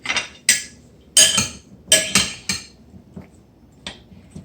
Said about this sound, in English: And then we'll go ahead and stir this up